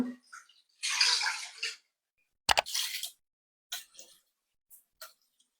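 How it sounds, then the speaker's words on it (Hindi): Water, four cups in all, is poured into a kadai while cooking potato and green bean sabzi. A splashing pour is followed by a second shorter one and a few small clinks and drips, close and otherwise quiet. "कढ़ाई में डालेंगे 4 कप पानी"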